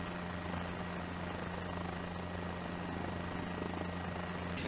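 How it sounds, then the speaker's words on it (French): A Guimbal helicopter in Microsoft Flight Simulator 2020 drones continuously over Beijing with a steady rotor hum and engine whine, fairly faint and unchanging, with no talk. "Petit hélicoptère sympa."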